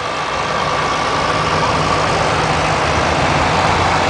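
A chrome-decorated tractor engine idles at a tractor gathering in Keystone, South Dakota. Its loud, steady rumble is close by and runs unbroken for about four seconds, with no talk over it.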